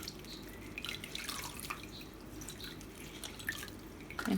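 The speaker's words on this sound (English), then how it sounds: "I'm going to dip it into the water, just soak it a bit, and then squeeze it out" Soaked toilet paper is squeezed out over water, giving a few soft, close drips and trickles against a quiet background, with no talking.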